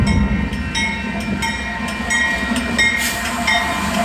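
An inbound Union Pacific manifest freight train led by locomotive 6256 rolls past at 1st Street in Tempe, a loud, continuous rumble with rhythmic wheel clicks throughout.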